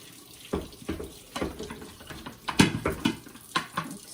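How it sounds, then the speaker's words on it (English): Tap water runs into a kitchen sink while ingredients for a cholent stew are rinsed by hand, a steady close splashing with irregular louder spatters and gurgles throughout. "I'm going to wash these off real quick."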